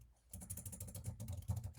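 Rapid, irregular clicking of keys on a computer keyboard while a description is typed into software; the quiet keystrokes start after a brief silence and continue steadily, close up.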